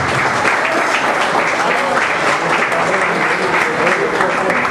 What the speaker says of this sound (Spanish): Ahí está el aplauso de nuestro pueblo, de nuestro auditorio de Don Víctor